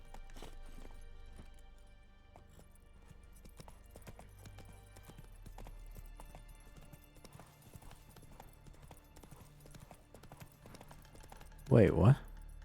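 Hoofbeats of Roach, a horse in a video game, clip-clop steadily at a moderate distance under game music and a talking voice, ending with a loud burst near the close.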